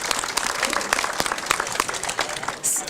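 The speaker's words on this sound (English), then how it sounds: "let's give a round of applause" Applause from a crowd at a grand opening event, brisk scattered clapping close by for a few seconds, with some chatter underneath.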